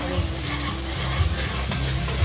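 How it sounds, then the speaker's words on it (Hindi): Dal tadka frying in a catering kitchen, with curry leaves and onion sizzling in hot oil, gives a steady loud crackle and hiss that carries on without a break and has no talk over it. "ये अभी एकदम हम लोग का स्पेशलिस्ट दीदी दाल तड़का बना रहे हैं।"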